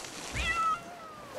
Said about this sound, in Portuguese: Lola é meu gato